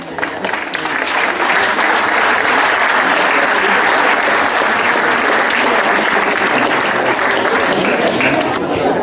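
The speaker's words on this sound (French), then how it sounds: "on peut l'applaudir" A crowd at an outdoor animal blessing applauds a pet, sustained loud clapping that rises quickly and holds at a constant level for several seconds.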